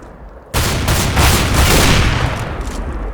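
Rapid gunfire in CS:GO erupts suddenly after a quiet half-second: a dense, loud burst of overlapping shots that carries on steadily to the end.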